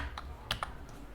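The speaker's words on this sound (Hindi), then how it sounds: "अब इसके अंदर मैं कीबोर्ड में जितने भी कैरेक्टर्स होंगे मैं उन सबको टाइप कर दूंगा" A few light, crisp keystrokes on a computer keyboard, spaced irregularly and quiet against a faint room hiss, as characters are typed into a Python password manager program.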